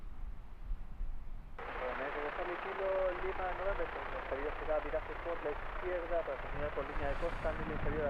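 An EasyJet jet airliner takes off, its broad engine roar rising at about 1.5 seconds and holding steady and loud for the rest of the stretch, with voices talking over it.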